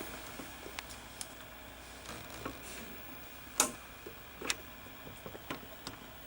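A Daytron VCR-32DAU VCR has its clock buttons pressed under a small door, giving faint scattered clicks and taps in a quiet room, with a couple of sharper clicks near the middle.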